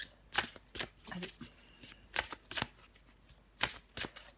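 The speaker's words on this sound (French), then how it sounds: "Je vais encore tirer une carte pour vous, les vierges." Deck of tarot cards being shuffled in a series of soft, irregular riffles and slaps close by, with faint room noise between the bursts.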